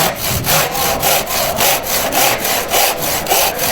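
A hand saw cuts a mitre through wooden architrave moulding on a bench, steady back-and-forth strokes rasping in a regular rhythm of about three per second, close and loud with no talk.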